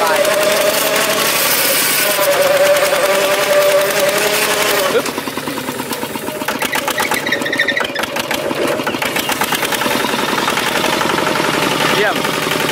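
Golden Lion walking tractor fitted with a rotary tiller being driven, a steady, rapid mechanical chatter of a small engine running throughout, with a brief dip midway, close and fairly loud.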